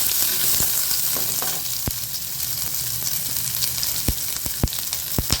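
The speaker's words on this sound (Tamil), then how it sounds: "வெங்காயத்தை வந்து லைட்டாக வதக்கி தான் போடணும்" Onions sauté gently in hot oil in a pan for a tea-shop coconut chutney, giving a steady close sizzle with scattered sharp clicks and scrapes from stirring throughout.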